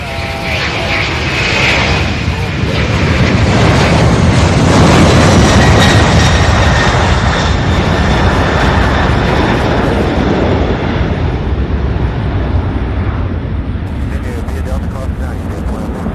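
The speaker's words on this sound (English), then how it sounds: "Beautiful takeoff." A large jet taking off at Louisville's SDF airport roars loudly and continuously, the broadband engine thunder swelling and then holding steady as the plane climbs, with occasional voices over it.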